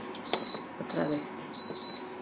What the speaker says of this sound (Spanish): Mi microondas dice que ya ha terminado.